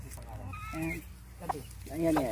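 Chickens in a rural yard in Paniqui, Philippines, cluck and squawk close by in short bursts while a person talks over them in Filipino.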